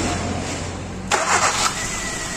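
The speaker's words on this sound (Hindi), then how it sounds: "स्टार्ट करिए गाड़ी जरा।" A Hyundai Verna petrol engine with a misfire problem cranks and catches after about a second, with a short burst of starter noise before it settles into a rough idle.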